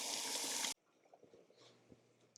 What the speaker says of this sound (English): So let me go wash my hands a little quick.